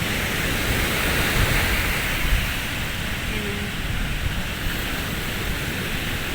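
Six-foot ocean waves surging up a beach and drawing back, a loud continuous roar of surf with broadband wash and no pauses.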